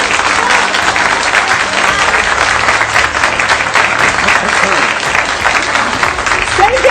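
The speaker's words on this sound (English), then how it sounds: "save the applause till the end." Loud, dense applause fills a political meeting hall about Muslim representation and runs without a break, with crowd noise and a voice underneath.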